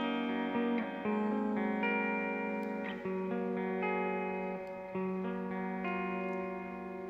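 A PRS Private Stock Singlecut electric guitar on its bridge pickup rings out bright and twangy, chords sustained and strummed a few times with a resonant, slightly effected tone.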